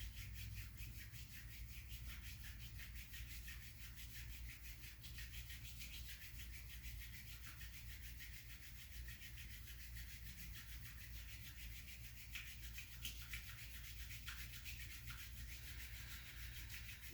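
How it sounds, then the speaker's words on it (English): Palms rub together steadily during a restorative yoga session, a soft, continuous dry friction that stays quiet and even throughout with no talking. "Start to rub the palms together here, creating a lot of friction."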